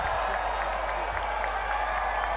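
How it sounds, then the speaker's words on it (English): A huge MotoGP grandstand crowd at the Thai Grand Prix roaring and applauding toward the podium, a dense, steady wash of distant cheering with no pauses. "The crowd go mad"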